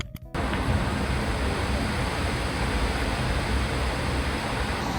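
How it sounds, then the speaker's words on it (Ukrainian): A constant, even hiss of rain falling outside continues unbroken after a brief moment at the start. "На вулиці падає дощик."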